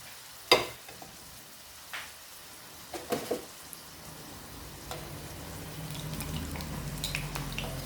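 Okra fries in hot oil, with a soft sizzle under occasional sharp clinks and scrapes of a utensil against the pan, the frying hiss swelling louder toward the end.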